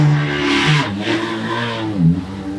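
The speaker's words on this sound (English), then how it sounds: "All the engines about to start" Toyota GR86 race car engines blipping and revving at a track before a race, several sharp throttle rises and falls in quick succession, close and loud.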